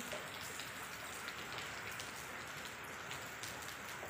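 Steady, dense rain pours down hard, a continuous hiss with scattered louder droplet splashes throughout, no voices.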